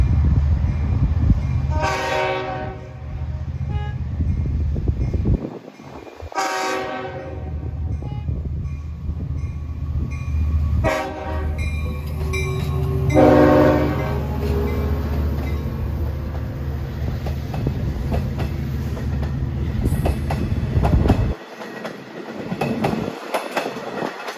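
A loud Long Island Rail Road locomotive horn sounds in several long blasts over the rumble and clatter of a train pulling out near Patchogue, engine noise continuing between blasts.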